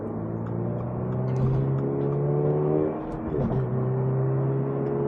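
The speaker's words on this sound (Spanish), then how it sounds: "ese motor cómo genera ese bramido tan peculiar, ¿no? En este motor Boxer, un motor de origen Subaru" A 2024 Toyota GR86 with a Subaru-origin boxer engine gives a steady, loud, droning roar under acceleration from inside the car, dipping briefly midway as it shifts before pulling hard again.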